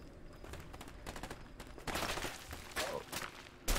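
Gunfire erupts in the video game A Way Out as a gunfight plays out, with bursts of rapid shots and a louder volley near the end, and nobody talking.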